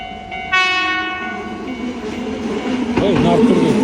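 A train pulls into a station, a sustained horn blast giving way to rumbling, squealing braking that grows louder toward the end, with voices talking nearby.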